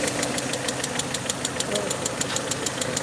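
A steady idling Peugeot 307 2.0i engine with a rapid, regular ticking knock repeating throughout from a fault inside the cylinder head, close by and fairly loud.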